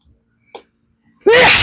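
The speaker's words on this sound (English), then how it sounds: "This stuff does make me sneeze." A single loud, sharp sneeze set off by airborne ice-dye powder while mixing dye, bursting out close after a quiet stretch with a faint small noise.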